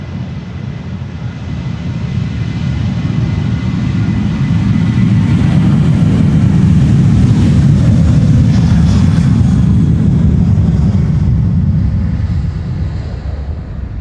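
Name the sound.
jet airliner taking off from Polderbaan runway 36L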